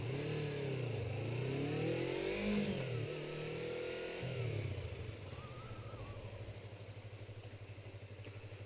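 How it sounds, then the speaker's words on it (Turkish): A motorcycle ridden in second gear at about 25 km/h, its engine note close and rising with a brief rev before settling into a steady, lower drone. "25 km hızla ikinci viteste benim motosikletim için ideal"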